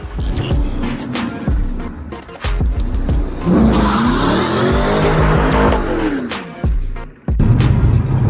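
A car driven hard with tires squealing through a turn, engine revving and a long rising screech of rubber, loud and close with no talk.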